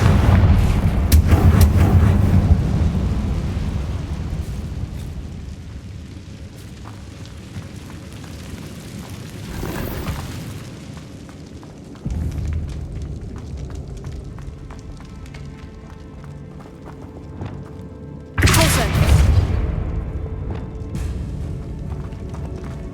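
Fiery Confringo spell blasts in the video game Hogwarts Legacy: three heavy booming explosions burst out at intervals, each swelling and fading over a rumbling background of game noise.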